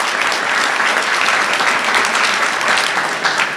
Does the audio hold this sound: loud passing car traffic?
no